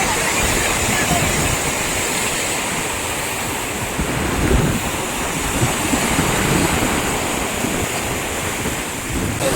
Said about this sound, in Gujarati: વેળ આવતી હોય એવું લાગે છે, જો વેળ આવે છે, જુઓ તમે.